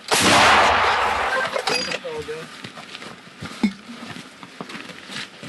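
A loud, sharp blast from a British L119 artillery gun near Bakhmut opens with a broad roar that decays over a few seconds, followed by fainter rumbles and clanks in the distance.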